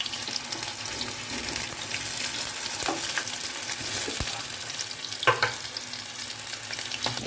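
Boiled taro pieces fry in hot oil with dried chilli and spices, a steady close sizzle broken by occasional clinks and scrapes of stirring.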